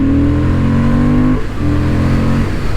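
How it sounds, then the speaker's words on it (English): 125cc motorcycle on its stock exhaust revving up and holding high revs, dropping briefly, then climbing again; loud and close, with no talking. "that is a stock exhaust"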